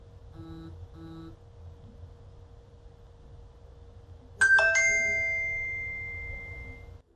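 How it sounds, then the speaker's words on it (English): Notification chime from a Samsung Galaxy Watch 3 smartwatch: a bright, clear ding with a short grace note that rings on and fades over a few seconds, preceded by two faint soft tones over quiet room hiss. "I like the way that Samsung gives you a little chime when you get a notification."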